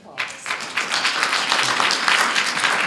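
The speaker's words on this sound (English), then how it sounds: "Let's have a round of applause." An audience at a seniors summit breaks into dense, sustained applause, many hands clapping together in a lively, steady roar that fills the room.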